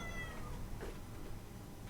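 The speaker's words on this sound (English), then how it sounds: "Can you see the face of that cat? It sounds so sad." A cat gives a plaintive, mournful meow that rises and trails off, fairly faint against a steady background noise, with no speech.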